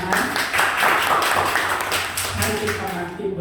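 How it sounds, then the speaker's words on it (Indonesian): Congregation applauding during an Indonesian church worship service, a dense sustained patter of many hands clapping at steady loudness, with a voice speaking over it. "Tepuk tangan buat Tuhan."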